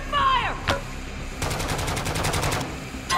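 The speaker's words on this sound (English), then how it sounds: "Enemy fire!" Rapid bursts of enemy gunfire in a shooter video game, a steady rattling run of shots lasting over a second after a sharp earlier report, fairly loud with game sounds around it.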